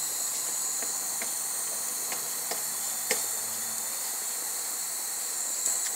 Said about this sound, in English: You might be able to hear a little sizzle.